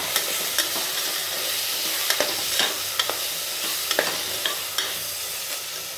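Biryani masala and tomatoes sizzle steadily in a pan for mutton biryani, while a spoon stirs and scrapes with sharp, intermittent clicks against the metal, loud and close.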